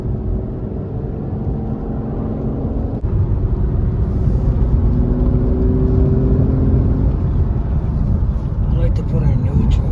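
Six-speed manual Aston Martin DB9 engine pulling hard under acceleration, a loud, steady low drone heard from inside the car, swelling slightly after a brief shift, with occasional voices in the cabin.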